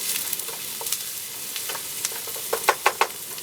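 Dried thyme, basil and oregano toasting in a hot pan give off a steady soft sizzle, with light scraping and stirring clicks that grow louder and sharper toward the end.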